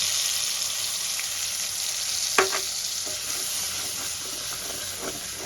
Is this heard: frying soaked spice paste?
yes